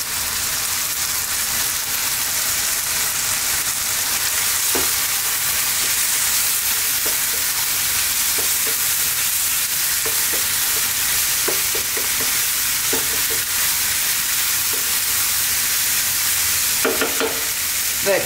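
Curry powders of coriander, turmeric, chili and cumin fry in a pan for lamb curry, a loud continuous sizzle with occasional scrapes and taps of stirring throughout, close by and without speech.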